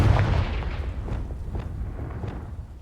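A Confringo blasting spell goes off in Hogwarts Legacy, a loud deep boom at the start that rumbles and decays into a crackling tail, with no talk.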